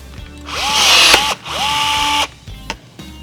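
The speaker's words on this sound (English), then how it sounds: "if you have a fancy riv gun just like that, you're all done" A power rivet gun sets a rivet on a 2022 Subaru BRZ intake dress-up panel, giving two close, loud whirring bursts with a rising motor whine, each ending in a sharp click.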